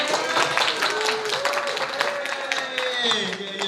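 An audience at a public lecture claps in a brief scattered patter while a speaker's voice carries over it, close and moderately loud.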